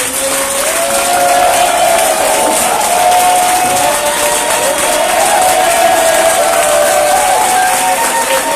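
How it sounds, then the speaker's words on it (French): Congregation of pastors at a church gathering in Abobo applauding and cheering steadily throughout, a dense continuous wash of clapping with a sustained rising crowd shout layered on top. "J'aimerais que tous les pasteurs se tiennent debout pour acclamer puissamment le Seigneur Jésus."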